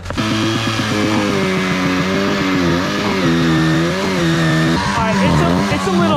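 A chainsaw with a dull chain burns through the wood of a scrap trailer, its engine droning steadily and loudly for the whole stretch with rising and falling pitch as it bogs in the cut.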